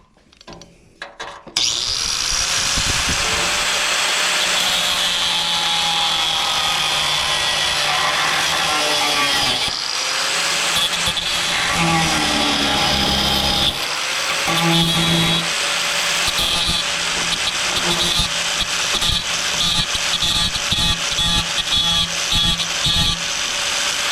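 A power tool cuts a protruding bolt off flush with its nut while preparing the core support of a 1964 Impala: a loud, steady whine runs almost nonstop for over twenty seconds, pitch wavering as the blade bites.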